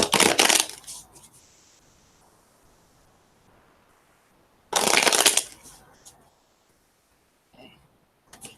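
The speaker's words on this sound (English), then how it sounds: "We're going to use the Afro-Brazilian deck." An Afro-Brazilian tarot deck being shuffled, two loud close bursts of riffling cards separated by quiet handling and soft rustles, with a few light taps near the end.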